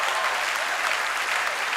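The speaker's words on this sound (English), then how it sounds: "But please, a round of applause for church." A church congregation applauds, a dense, steady roar of clapping that fills the space evenly from start to finish.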